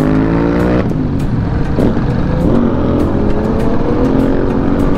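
Honda CB200X motorcycle engine and exhaust droning steadily while riding in traffic at a launch event ride, with broadband road and wind rush throughout and no clear speech.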